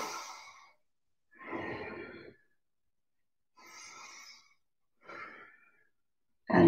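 Slow, deliberate breaths in and out during yoga neck movements, four or five long airy exhalations and inhalations separated by silent pauses, close to the microphone.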